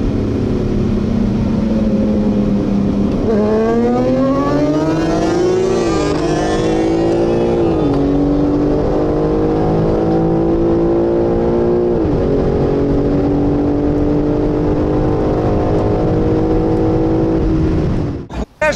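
Sportbike engine, a Suzuki GSX 1300R Hayabusa Gen 3 or BMW S1000RR, pulling hard in a street race, loud and close, revs climbing through several quick gear shifts before settling into a sustained high-speed roar.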